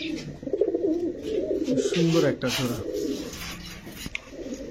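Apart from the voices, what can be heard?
pigeons cooing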